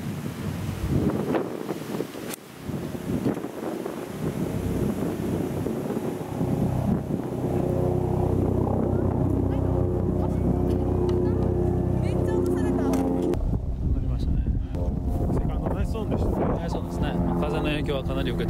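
Heavy wind buffets the microphone in loud, continuous gusts on a golf course, with a person talking underneath for part of the time.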